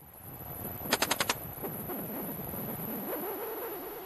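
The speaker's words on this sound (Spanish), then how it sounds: "Alguien devuelve los disparos." A quick burst of five sharp gunshots rings out close together in an exchange of fire, followed by scattered fainter return shots in the distance over a steady background rumble.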